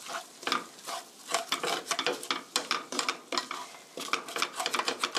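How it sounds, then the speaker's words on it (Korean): Japchae glass noodles being stirred and tossed with sesame oil and ground black pepper in a pan over low heat, a brisk series of clattering, scraping utensil strokes with light sizzling underneath. "참기름 1 테이블스푼 넣어주시고요. 그라운드 블랙페퍼 후춧가루 솔솔 뿌려주시고요. 고루 섞어주세요."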